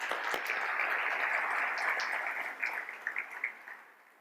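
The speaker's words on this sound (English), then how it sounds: "let's give them a round of applause too." An audience at a city State of the City event claps in steady, full applause that holds for several seconds and then thins into scattered claps.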